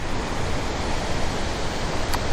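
Steady, broadband rush of water pouring over a creek spillway, loud and continuous throughout with no breaks and no voices.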